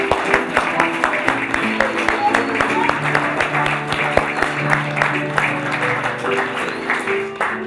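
A live comedy-show audience in New York City applauding an accompanist, Richard Shore, with sustained clapping from the crowd, and a voice and musical tones sounding over it.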